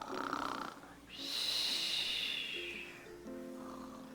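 A human voice imitates the snoring of a sleeping jackrabbit during a children's storytelling of the tortoise and the jackrabbit, giving one long, wheezy, rasping snore after a short vocal sound, then brief voiced tones.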